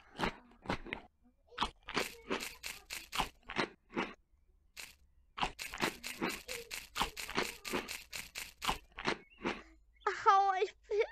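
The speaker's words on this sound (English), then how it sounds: "And even hear the crunch." Repeated crunchy bites of chocolate donuts in the virtual game Rec Room, a rapid series of sharp crisp crunches in two bursts separated by a pause, fairly loud and close, with a short vocal sound at the end.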